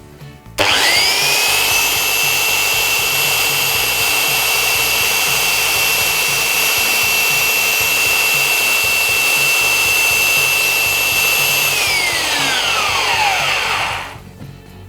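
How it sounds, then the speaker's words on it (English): Triton belt sander running steadily for about thirteen seconds, a loud continuous motor whine with a strong high tone that holds level, then winds down smoothly to silence; no voices. "that will move the belt left and right whilst the machine is running"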